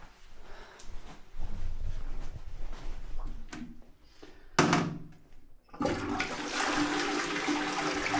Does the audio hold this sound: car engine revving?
no